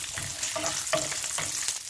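Fennel seeds, ginger and garlic fry in a little sesame oil as masala for a Chettinad vegetable white kurma, giving a continuous close sizzle with repeated stirring scrapes and clatters.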